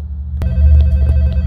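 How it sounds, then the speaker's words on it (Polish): A telephone bell rings in a restaurant at night, a loud, close, insistent electronic trill that continues steadily throughout, with no voices over it. "Dzwoni telefon."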